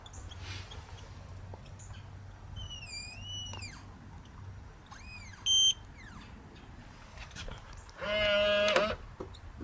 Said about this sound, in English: The beeping and the noise was the door locking